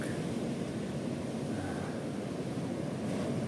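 Ocean surf breaking close to the shoreline at Ungapan Beach in South Malang, a steady broadband wash of waves mixed with wind rumble on the microphone, continuous and fairly faint throughout.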